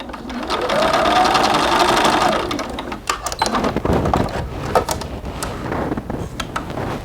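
A sewing machine runs a forward stitch along a doll pants seam, one steady whir for about three seconds, then breaks into shorter stop-start bursts as the fabric is pivoted around the curve.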